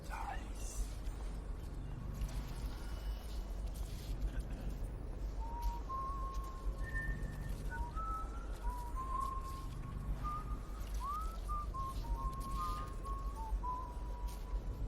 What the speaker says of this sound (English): So much whistling.